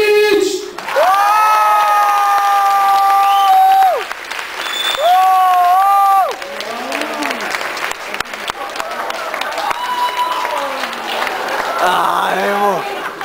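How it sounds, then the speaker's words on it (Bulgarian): Anime convention crowd in Plovdiv cheering and clapping for a Bleach cosplay group, with loud sustained screams and whoops at first, then steadier applause and scattered shouts continuing throughout. "И вашите аплодисменти, wait for it, за Блич!"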